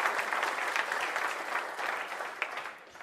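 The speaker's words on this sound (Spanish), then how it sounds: "Un aplauso para José Mari." A room full of people at a round-table conference applauds a speaker named José Mari. The clapping is dense, sustained and fairly faint, then fades toward the end.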